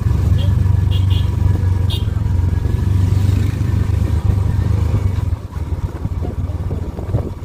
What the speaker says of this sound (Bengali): গাড়ির ইঞ্জিন ব্রেকিং আছে তো।